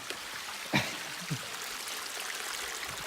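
A river flowing in Red River Gorge gives a faint, steady watery rush, broken by a couple of brief splashes or footsteps close by, with no talking.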